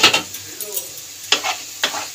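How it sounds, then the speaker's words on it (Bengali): Mixed vegetables frying in an uncovered pan while being stirred: a soft continuous sizzle is broken by three distinct scraping stirs spaced across the moment, close and moderately loud. "খুব একটা লাল লাল করেও সবজিটা ভাজবো না ফ্রেন্ডস"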